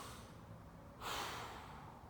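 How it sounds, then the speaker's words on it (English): Deep diaphragm breaths taken in an exercise stretch, held on one side with the left leg crossed over, come as a soft close exhale, then a louder, rushing breath that trails off, with no talking. "I'm going to breathe."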